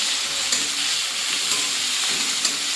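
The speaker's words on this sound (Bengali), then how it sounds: "হালকা সাঁতলে নেব।" Grated onion with a little salt fries gently in a pan, giving a steady, even sizzle throughout with faint stirring clinks, close and alone without voices.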